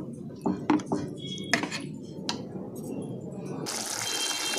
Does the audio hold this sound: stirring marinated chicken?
yes